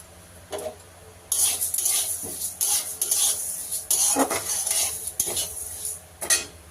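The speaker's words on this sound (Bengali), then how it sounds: "হ্যাঁ শুকনো কড়ায় ডালটা ভেজে নেব" Moong dal is dry-roasted in a dry wok, giving repeated scraping and stirring rattles of a spatula against the pan, close and irregular, with faint grains shifting between strokes.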